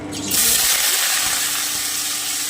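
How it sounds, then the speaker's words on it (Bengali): Cubes of squash and potato drop into hot oil in a pan, starting with a sharp burst of sizzling that settles into a steady, close frying hiss. "আমার তেলটা কিন্তু গরম হয়ে এসেছে এবারে আমি এতে কোয়াশটার আলুটা একটু ভেজে নিচ্ছি"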